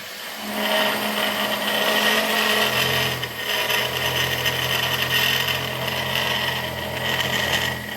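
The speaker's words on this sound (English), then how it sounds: "Turn out the new sander, see if it's gonna notch this decent." A new power sander grinds metal, notching subframe connectors on a 1972 Plymouth Duster in a shop, a loud continuous whine whose pitch drops as the tool bites in.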